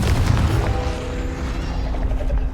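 Deep booming blasts from a Confringo fire spell in Hogwarts Legacy, a loud crashing explosion with heavy low rumble at the start that settles into a lingering crackling roar.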